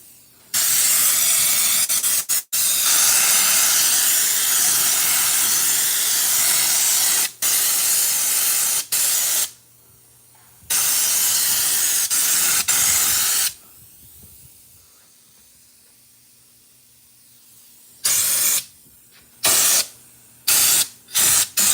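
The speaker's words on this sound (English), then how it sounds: "TJ, I'm spraying the one that stays open." WoolWax undercoating sprayed beneath a 1963 Impala, a loud continuous aerosol hiss in long bursts with short pauses, then a quieter stretch followed by several brief spray blasts near the end.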